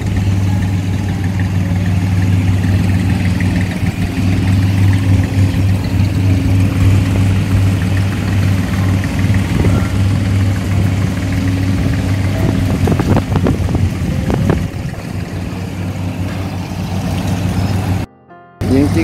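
A boat engine runs on a river, a steady low droning hum that holds close and loud throughout, with a few faint clatters and a brief dropout near the end.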